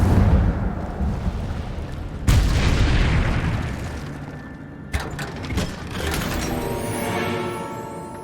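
The Incendio fire spell being cast in the video game Hogwarts Legacy: a sudden booming whoosh of flame partway through, then a second burst with crackling and rumbling effects over ongoing game sound.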